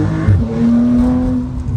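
Tuned Porsche 911 Carrera T of the 992 generation accelerating hard, its engine note rising in a loud, steady drone close by with no talk over it.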